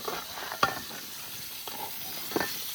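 Chicken liver fry sizzling in hot oil on an outdoor farm cook fire, a soft steady frying hiss broken by a few sharp stirring clacks of a spoon against the pan.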